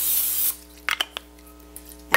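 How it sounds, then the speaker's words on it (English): A short hiss of cooking spray into a crock pot for about half a second, followed by a few light clicks and handling knocks in an otherwise quiet space. "we'll spray the crock pot"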